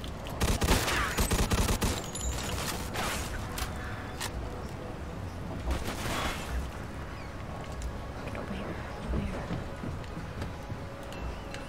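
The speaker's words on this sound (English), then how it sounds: "Where they shooting me from?" Dense gunfire from the Mafia II game: rapid overlapping shots and bursts crackling continuously for several seconds, loud and close, with a heavier volley near the start and more firing later.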